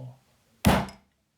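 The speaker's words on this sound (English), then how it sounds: "And he slammed his door." A single door slam for a storybook reading: one loud, short, thudding bang close by after a brief quiet pause, decaying quickly into silence.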